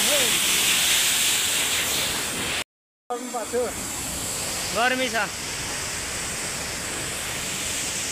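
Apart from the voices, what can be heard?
Dhiplung waterfall in Khotang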